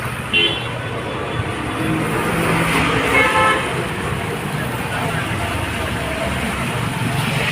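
Congested rush-hour street traffic in India rumbles steadily while a couple of car horns toot briefly, with people talking faintly amid the idling engines.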